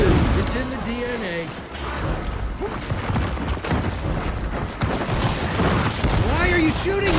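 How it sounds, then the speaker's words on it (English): Gunfire from the Gears of War 4 video game during a King of the Hill match on the Reclaimed map, with dense overlapping bursts and booms throughout and voices talking over the shots. "Why are you shooting me?"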